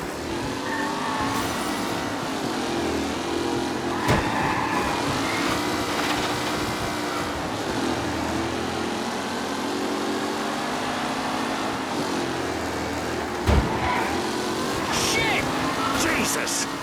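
Race car engines roar in Mafia: Definitive Edition as a pack of cars jostles on a racetrack, a sustained loud engine drone with shifting pitch and occasional impacts, heard under ongoing talk.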